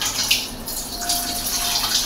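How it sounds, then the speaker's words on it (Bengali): Water pours steadily into a cooking pot for about two seconds, a close, continuous splashing gush with no talk over it. "জল দিচ্ছি, ভরে দিচ্ছি"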